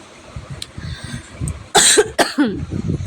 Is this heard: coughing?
yes